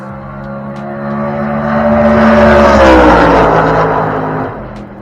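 A drag racing car at a dragway roars past, its engine swelling loud and close, peaking in the middle, then fading as it moves away.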